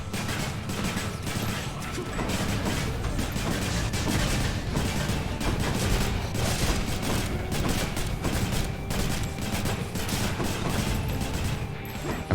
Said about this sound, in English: Luckily I can block their bullets.